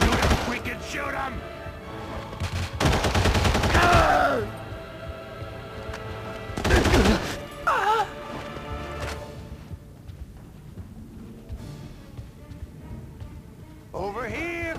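Gunshots in The Punisher video game, set at a zoo: a few loud sharp bursts of fire cut through the scene, separated by quieter stretches with game characters shouting.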